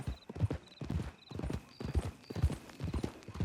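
Horse hooves clip-clopping at a steady walking rhythm in Red Dead Redemption 2, clear and fairly close, with faint ambient game sound behind.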